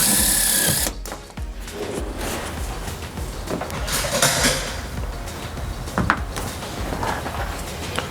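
A power driver sets Phillips screws with screw caps through an insulated wall liner panel at the B-pillar of a Ford Transit van, with short whirring bursts and clattering handling noises close by.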